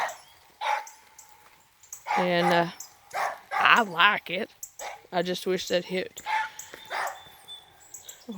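A small dog or pup barks and yips several times in short bursts near the microphone, interleaved with someone talking close by, on a farm setting with goats.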